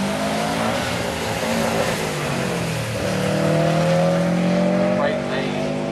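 Subaru drag cars launching side by side down a drag strip, engines roaring loud and steady through the whole stretch with rising revs and tire noise, under a track announcer's voice.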